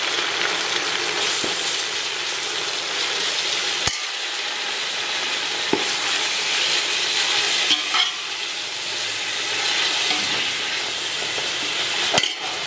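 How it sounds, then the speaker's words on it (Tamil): Onions sautéing in a pan until browned for chicken white biryani: a steady, close sizzle and crackle throughout, punctuated by occasional sharp clicks of a spatula stirring against the pan, with no voices. "இப்போ நம்ம வந்து இந்த வெங்காயத்தை நல்லா ப்ரௌனாக வதக்கி எடுத்துக்கலாம்."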